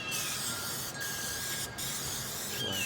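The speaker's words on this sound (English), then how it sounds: "Do both sides, coat it real good with the cooking spray" Long, steady hissing bursts of cooking oil spray being applied to the grates of a new Lone Star Grillz 20x36 offset smoker, close and loud, separated by short pauses between sprays.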